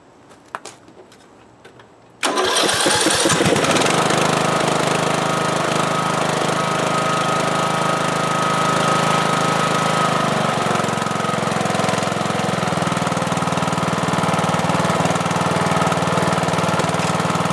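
A Briggs & Stratton lawn mower engine on a previously broken mower is quiet at first, then fires up suddenly and runs at a loud, steady, rattling idle, close by and with no one speaking.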